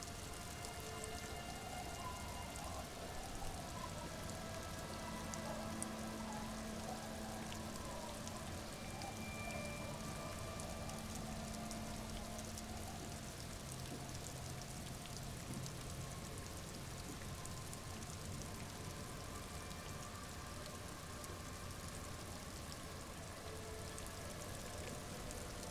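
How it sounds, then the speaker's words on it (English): Steady rain pours down in a dense, even hiss with a faint low drone and tonal hum beneath, a constant wet wash that never lets up, from the game Disco Elysium. "She looks at the rain streaming down the yellow belly of the boat."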